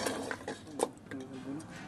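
A spoon stirs nihari in a cooking pot, giving soft scraping and metallic clinks close by, with a voice faintly in the background.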